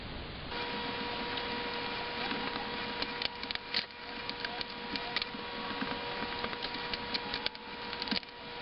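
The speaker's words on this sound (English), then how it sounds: "This is pine, so it should carve, I think, pretty good with this knife." A knife carves a pine wood block, producing a steady close scraping and shaving with small splintery clicks and ticks scattered throughout, and no voices.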